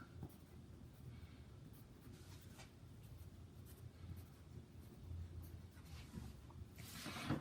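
Steady scratching of a pen or marker writing on a sheet-metal skimmer layout pattern, faint and continuous, close up and alone.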